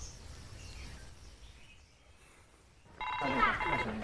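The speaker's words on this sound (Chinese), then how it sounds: "窦骁给我打电话扰乱我的军心" A mobile phone rings with an incoming call during a team game on a variety show. After a stretch of quiet background voices and noise, the ringtone cuts in suddenly and loudly near the end.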